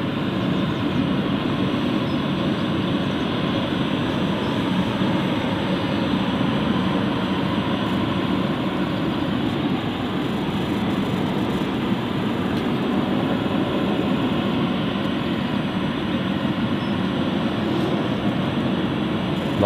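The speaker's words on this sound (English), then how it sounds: "Bringing the aircraft in." Aircraft taxiing in at London City Airport, a loud steady engine roar and rumble that holds constant throughout with no talk.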